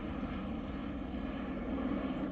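A helicopter passes overhead as a faint, steady rotor-and-engine drone at a distance, holding constant throughout with no voices over it.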